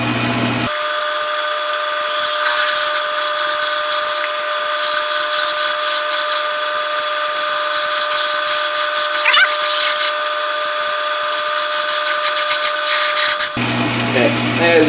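A power drill with a letter Q bit drills about 1.5 inches deep, running steadily for about thirteen seconds with a high whining tone, close and loud, then winds down at the end.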